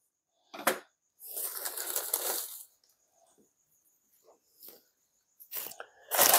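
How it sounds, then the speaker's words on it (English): Crispy dry leaves are crushed into an Ephobopus skeleton tarantula enclosure in several separate crackling, crunching bursts, close by, with quiet pauses between them. "And leaves. Crispy leaves."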